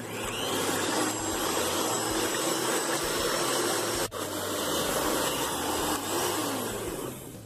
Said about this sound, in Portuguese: nós vamos começar batendo por 3 minutos na velocidade 2 da batedeira.